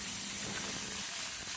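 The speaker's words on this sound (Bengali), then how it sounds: "আর আরেক দিকে ম্যারিনেট করা চিকেন আমি একটুখানি ভেজে নিচ্ছি।" Marinated chicken fries in a pan, giving a soft, steady sizzle and hiss that holds at a low, even level throughout a brief moment, with no talking.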